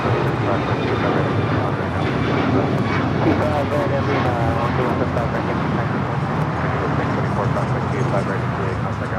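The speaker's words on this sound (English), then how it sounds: "That flight was heading to Cabo on that 737 MAX 9, Alaska Airlines flight 1360." Alaska Airlines Boeing 737 MAX 9 jet at LAX, a steady broadband engine roar filling the whole clip, with radio chatter and voices talking over it.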